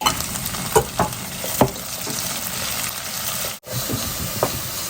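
Curry leaves dropped into hot oil with ginger and garlic in a pan for a Kerala beef ularthu crackle and sizzle steadily, with a few sharper pops and stirring scrapes, close and alone.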